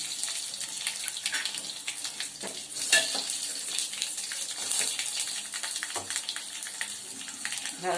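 Mustard seeds, green chili, curry leaves and cumin sizzle and crackle steadily in hot oil for a Konkani-style curd kadhi, a bright continuous frying hiss with small pops and no talking.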